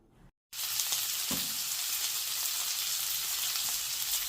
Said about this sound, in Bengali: তো এটা একটু ভেজে নেব কালো জিরে দিয়ে আর কাঁচা লঙ্কা দিয়ে।